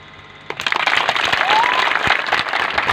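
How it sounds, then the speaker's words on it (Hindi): Audience applause at an Arya Samaj religious gathering bursts in after a brief quiet moment and continues as dense, steady clapping to the end, with faint voices mixed in. "जोरदार तालियां बजाइए"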